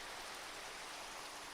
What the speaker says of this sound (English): So raining.